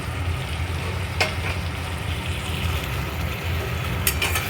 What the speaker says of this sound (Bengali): ভেজে রাখা আলুগুলো দিয়ে ওখানে একটু ভালো করে কষবো